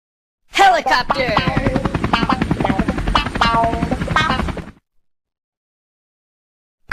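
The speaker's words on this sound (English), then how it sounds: "Helicopter!" A helicopter is heard as a loud, close rhythmic rotor chop with a whining engine tone and mixed voices, lasting about four seconds before cutting off to silence.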